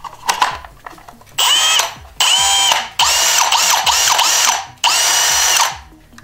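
A Milwaukee M18 Fuel cordless drill/driver, under test during a repair, spins up in several short bursts. Its motor whines loud and close with gear whir, and brief pauses fall between runs.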